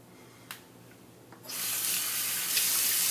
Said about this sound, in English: I'm just going to dump the water out of the inner vessel of my brush scuttle.